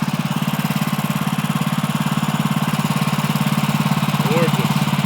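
A steady, pulsing engine drone runs throughout as a saw cuts into an old white oak log buried for years, loud and continuous with a slight rise near the end.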